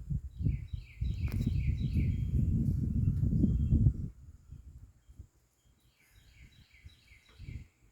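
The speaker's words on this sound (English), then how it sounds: "Sorry, the bird is not in the shot, but you can hear it." An unidentified bird calls outdoors in short bursts of quick, descending chirps, first over loud rustling and handling noise, then again more faintly after a quiet stretch.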